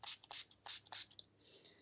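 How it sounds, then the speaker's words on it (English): Facial spray is misted onto a face during a makeup routine, heard as four quick, close, hissing spritzes in an uneven rhythm, followed by a soft faint rustle. "So I'm just going to spritz my face with that."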